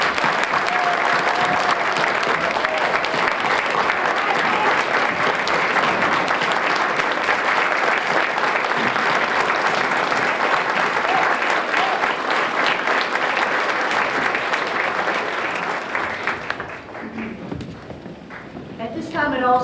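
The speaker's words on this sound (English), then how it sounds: "giving a loud round of applause to our heroes, our veterans that are here today" An audience at a Veterans Day ceremony gives a loud, sustained round of applause for veterans, dense clapping holding steady for about fifteen seconds before thinning out and fading.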